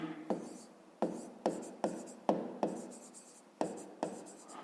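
A pen writing on paper while working a fifth-grade math problem, a string of distinct scratchy strokes in short bursts, close and fairly quiet with no talking.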